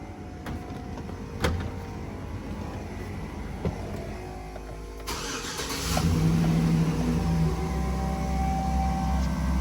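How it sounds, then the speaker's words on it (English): A Chevrolet Silverado pickup truck engine cranks over and catches, settling into a steady idle that grows louder and rumbles on. "Start the truck up so the battery don't run dead"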